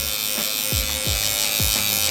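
Gamma Cyborg electric hair clipper buzzing steadily up close while blending lines in a barber haircut, with repeated short strokes changing the tone against the hair.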